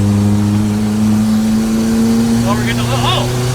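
A drift car's naturally aspirated engine with exhaust venting from the wastegate, street drifting in Mexico, holds a steady droning tone with a rising rev near the end, while people talk over it.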